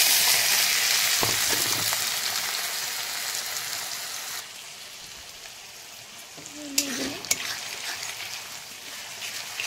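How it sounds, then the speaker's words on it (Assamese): Chopped onions hit hot oil in a pan with a loud, dense sizzle that gradually softens. A few faint stirring clinks follow near the end. "তেল গৰম হৈছে মই কাটি থোৱা পিয়াজখিনি দি দিম"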